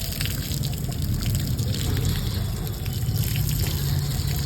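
Water pours and trickles steadily at close range while feet are washed outside a temple, a continuous splashing flow with no speech.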